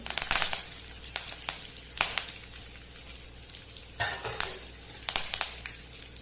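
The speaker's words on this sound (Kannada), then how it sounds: "ಇವಾಗ ಎಣ್ಣೆ ಬಿಸಿಯಾಗಿದೆ. ಸಾಸಿವೆ ಹಾಕ್ತಾಯಿದ್ದೀನಿ. ಕರಿಬೇವು ಹಾಕ್ತೀನಿ." Mustard seeds and curry leaves sizzle and spatter in hot oil for a traditional Malnad tempering, a continuous frying hiss broken by sharp crackling pops in clusters, close and fairly loud, with no talk.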